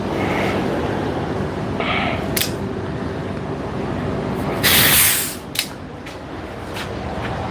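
An aerosol can of brake cleaner sprays in a few short hissing bursts, with one longer loud burst near the end that sputters out as the can runs empty, close by over faint background noise.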